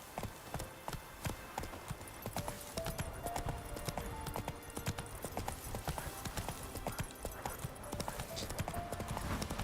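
Geralt's horse Roach in the video game Witcher 3 gallops along with rapid rhythmic hoof clip-clops, moderately quiet under game music, with someone talking over it.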